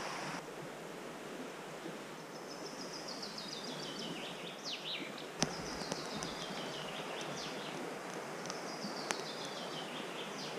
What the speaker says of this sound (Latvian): Putnu čivināšana un upes šalkas mūs modinā no rīta.